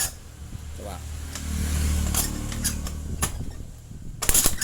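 A carbureted Honda Beat scooter engine is kick-started during a CDI check, its cranking churning briefly and then giving way to sharp clicks and a burst of revving, with people talking nearby.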